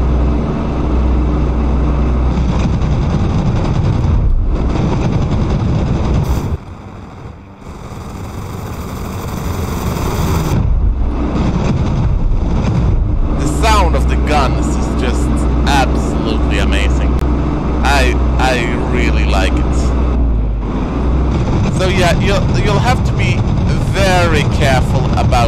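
Twin piston engines of a de Havilland Mosquito FB VI in the DCS flight simulator, droning loud and steady as throttle is pushed for speed, with a brief dip mid-way and someone talking over the cockpit roar.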